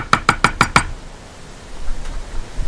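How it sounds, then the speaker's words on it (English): Five quick, sharp knocks in an even rhythm, struck for luck while scratching lottery tickets, close and loud, followed by quiet room noise. "That was the good luck knock."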